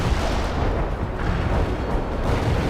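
Heavy rumbling artillery fire in the strategy game World in Conflict, a dense continuous barrage of booms and blasts, loud and close with deep low rumble, no voices.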